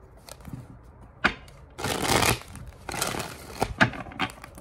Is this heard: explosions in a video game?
no